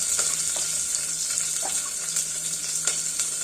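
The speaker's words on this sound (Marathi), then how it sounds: "थोडीशी कोथिंबीर टाकूया आणि आपली फोडणी फ्राय होऊ देऊया" A tempering of onion, green chili and coriander fries in oil, giving a faint, even sizzling hiss with scattered soft crackles, close by and without talk.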